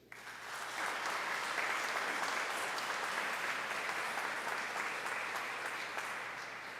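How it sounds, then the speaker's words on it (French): A church congregation at a parish Eucharist in Gatineau applauds the choir, a dense, steady round of clapping that swells quickly, holds for several seconds and then begins to taper, with no voices over it. "On les applaudit, s'il vous plaît."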